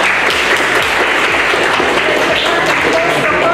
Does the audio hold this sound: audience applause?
yes